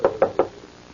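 Three quick, firm knocks land on a laboratory door in an even rhythm, close and distinct, followed by quiet.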